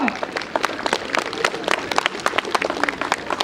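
Schoolchildren at a welcome for European kyokushin karate medalists break into lively, dense clapping in an indoor hall. Brief talk sits in the background.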